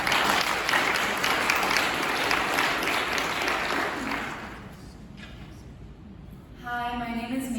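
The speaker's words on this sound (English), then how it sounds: "please give a round of applause for Maisie" An audience at a youth climate teach-in applauds loudly for about four seconds, then the clapping fades out, and a voice begins speaking near the end.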